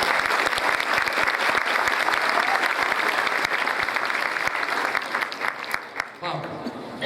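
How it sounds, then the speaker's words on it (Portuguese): A large congress audience applauds a participant named Pablo at a workshop, loud sustained clapping that tapers toward the end, with a voice speaking over the fading claps. "Aplauda o Pablo, por favor."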